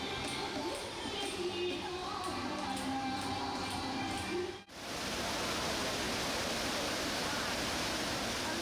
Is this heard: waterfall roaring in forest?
yes